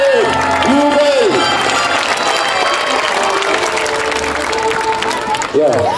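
Crowd cheering and applauding at a knights' festival archery contest in Laxenburg, a loud, continuous wash of clapping and voices over an announcer's amplified talk.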